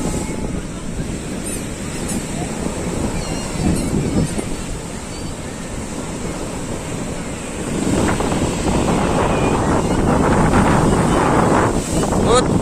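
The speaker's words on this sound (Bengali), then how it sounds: "দেখো পুরো সমুদ্র পুরো উত্তাল" Rough, swollen sea on a crowded beach at a Saturday spring high tide: waves surge and crash steadily while wind buffets the microphone, the surf growing louder and closer in the second half.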